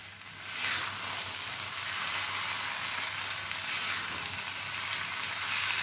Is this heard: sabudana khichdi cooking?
yes